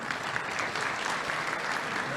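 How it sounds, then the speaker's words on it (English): An audience at a high school senior scholarship and award ceremony gives a round of applause for a staff member, a continuous even patter of many hands. "Let's give Adrian a big round of applause"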